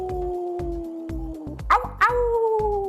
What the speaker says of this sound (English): Before every event, I make the crowd kind of collectively howl.